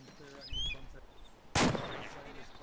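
Gunfire in a military combat game, with a faint distant thump early on and then a single sharp, loud crack that trails off in echoing rumble, over a quiet background with birdlike chirps.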